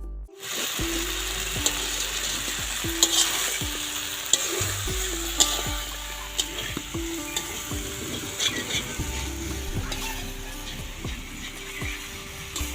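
Chicken legs with turmeric, salt and chili powder are stirred and fried in a pan, with a steady loud sizzle broken by repeated scraping strokes of a spoon throughout, and no voices.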